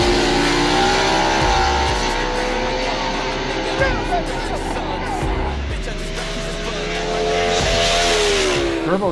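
A fully blown street car races a race car on a Chicago street, engines roaring and revving loudly throughout with tire noise, under loud music.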